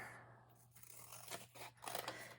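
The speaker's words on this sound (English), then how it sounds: "I'm going to cut that a little bit more" Scissors snipping a paper strip for a handmade hardcover book journal, a few quiet close cuts spread over a couple of seconds against a low steady hum.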